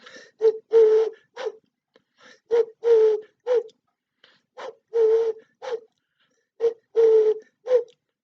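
A person imitates a pigeon's coo, repeating soft, throaty hooting phrases in a steady rhythm with short pauses between them.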